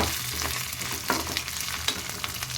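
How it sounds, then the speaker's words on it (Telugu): Fish eggs fry in a pan with a steady crackling sizzle, sharp pops and spatters breaking through now and then, close and continuous with no voices. "ఫిష్ ఎగ్ ఫ్రై చేస్తున్నాను"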